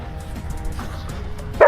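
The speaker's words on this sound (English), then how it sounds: "even with Betty barking like a moron." A dog barking and yipping outdoors on a seaside motorhome trip, a few short barks and whimpers at moderate distance, ending in one loud close bark.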